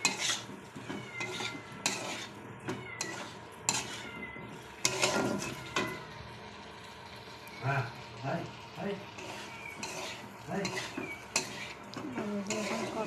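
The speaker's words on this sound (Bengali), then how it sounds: "আলু দিয়ে এখন কষানো হচ্ছে।" A spoon scrapes and clanks rhythmically against a pan as potatoes are stir-fried in hot oil, with sizzling underneath and a voice speaking at times.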